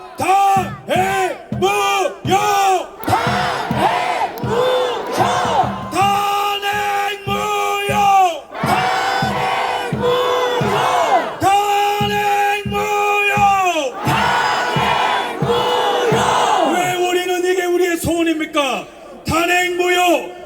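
A large outdoor crowd at a rally in the Dongdaegu Station square chants slogans together in loud, rhythmic unison, with short bursts of massed shouting separated by brief gaps, close and powerful throughout.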